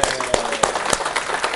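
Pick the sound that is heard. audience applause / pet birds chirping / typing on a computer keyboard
audience applause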